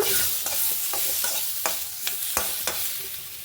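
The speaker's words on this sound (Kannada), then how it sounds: "ಎಣ್ಣೆಯಲ್ಲಿ ಫ್ರೈ ಮಾಡಿಕೊಂಡು ಕೊಬ್ಬರಿನೂ ಇದಕ್ಕೆ ಹಾಕ್ಕೊತಾ ಇದ್ದೀನಿ" Grated coconut fries in oil for sambar with a dense, continuous sizzle, broken by light, regular scraping and tapping as it is stirred in the pan.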